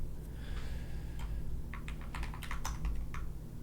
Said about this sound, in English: We have some notes that we're going to be typing up